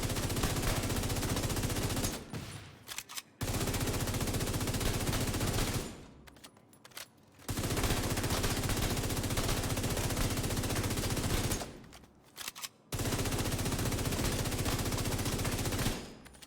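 A FAMAS assault rifle in The Division fires long, loud, rapid automatic bursts, separated by short pauses where reload clicks can be heard.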